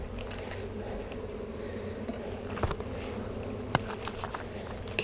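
A steady, dense buzzing of honey bees during an open hive inspection, with occasional clicks and knocks from frame handling close by.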